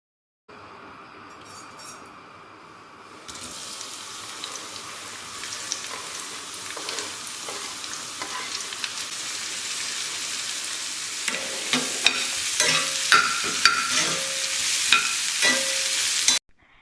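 Onion and other ingredients fry and are stirred in a kadai over a low flame, with steady sizzling that grows louder and denser, and the scrape of a spatula coming in repeated strokes toward the end, with no talking.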